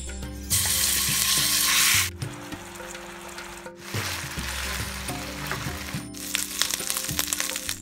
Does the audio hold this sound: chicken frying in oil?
yes